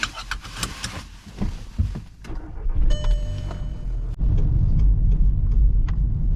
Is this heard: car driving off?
yes